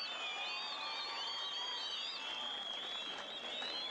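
Sustained crowd applause at a jaripeo rodeo tournament in Opopeo, Michoacán, steady and dense throughout with whistles and cheers rising over the clapping.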